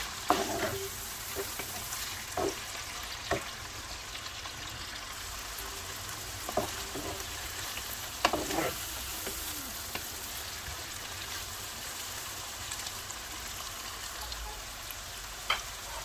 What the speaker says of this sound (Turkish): Soğan yumuşayana kadar orta ateşte kavurmaya devam edelim.